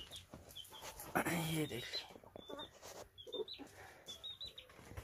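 Hens and a single small chick in a winter coop, with soft clucks, a louder squawk and faint peeping, heard close by while someone talks over them.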